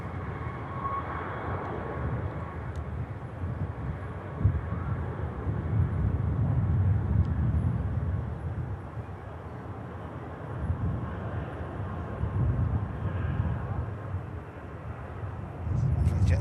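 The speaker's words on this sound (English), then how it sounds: "Jet 2 from Venice, 737 in the holiday scheme, next to touchdown." A Jet2 Boeing 737 from Venice comes in to land at an airport, its engines a sustained low, distant rumble that swells and eases over a steady wash of wind noise.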